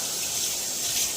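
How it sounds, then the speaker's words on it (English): Tap water runs steadily into a cooking pot in a home kitchen while making spaghetti, a close, continuous hiss and splash with no talking. "Put some water in that."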